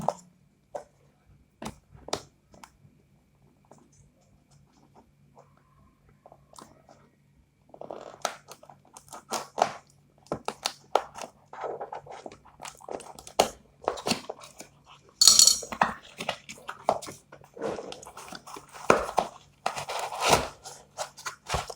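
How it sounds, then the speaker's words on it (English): The seal on the box of an Ambrane BT-83 10 W Bluetooth speaker is cut open with irregular snips, crinkles and crunches of tape and cardboard that grow busier toward the end, with a little faint talk. "Let's cut through the seal."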